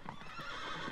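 A horse in the Shadow of the Colossus remake gives a short whinny, a brief nasal neigh over faint background ambience, with no voices.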